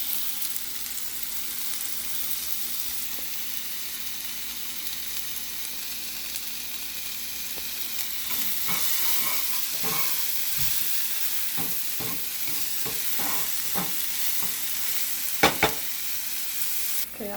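Onions and peppers fry in a pan with a constant close sizzle, and in the second half a spoon scrapes and clacks as the vegetables are stirred.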